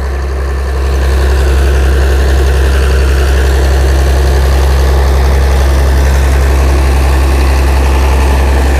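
Hino J07C diesel engine driving a large water pump, a loud, deep, steady rumble that starts up in the first second and then holds at a constant heavy drone with strong low vibration.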